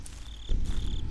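Steady high cricket chirping in the video game Slenderman, a continuous trilling that pulses in two long bursts over a low background rumble.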